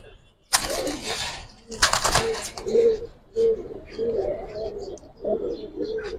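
Giribaz pigeons in a loft coo in low, repeated bursts, with bright rustling or wing flutters near the start and voices talking over the calls.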